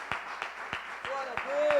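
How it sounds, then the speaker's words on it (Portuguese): A church congregation claps together during a service, sharp, even beats about three per second under a steady tonal backing, growing slightly louder toward the end. "Se você recebe essa palavra, aplauda ao Senhor."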